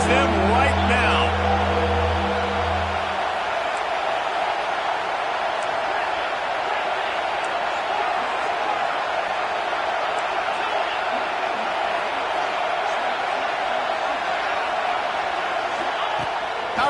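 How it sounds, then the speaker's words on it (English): A football stadium crowd roars in a steady, loud, continuous din that fills the whole stretch, with a low voice briefly audible at the start. "This crowd knows this defense needs them right now."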